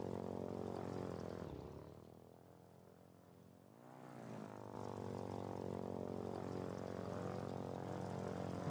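A propeller aircraft in the Foxhole video game drones steadily in flight, its engine hum dipping and swelling briefly as the throttle is eased back before holding an even, continuous tone.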